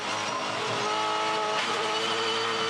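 A Dunlop Super2 race car on track at turn 7 roars hard under acceleration, its loud, high, sustained engine note holding steady before easing off toward the end, with no talking.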